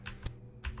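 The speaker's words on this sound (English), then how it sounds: "My keyboard is a bit clackety, sorry about that." Clacky computer keyboard keys struck a few times in quick bursts, close and fairly quiet, with no talking over them.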